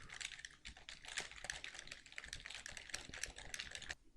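Quick, steady typing on a computer keyboard, soft close key clicks in a fairly even patter with small pauses, quiet and alone without any talk.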